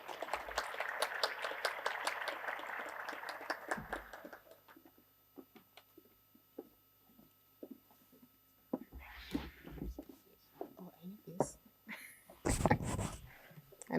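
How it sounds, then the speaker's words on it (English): Applause at an African Union medical event, a sustained burst of clapping for the first few seconds that breaks off into a quiet room with scattered noises, then short bursts near the end. "Let's have a round of applause."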